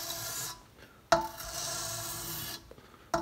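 A file is drawn across metal guitar frets while they are being leveled, giving close, steady rasping strokes that run for about a second each, split by brief pauses and sharp scrapes, with no voices.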